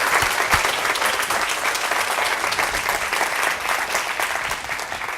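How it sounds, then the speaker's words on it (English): An audience at a student network conference applauds its student winners, with dense, steady clapping from many hands filling the room at full volume and tapering slightly toward the end. "I want to have another round of applause for our incredible student winners"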